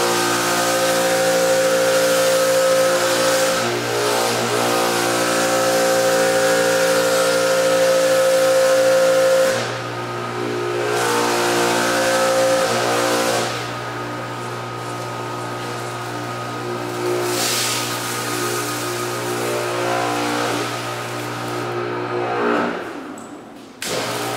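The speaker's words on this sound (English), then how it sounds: "We're going to power up the pressure washer." A pressure washer runs steadily while rinsing heavy dirt off a car, a loud close motor drone with a constant hum that drops in pitch partway through and carries a hissing spray.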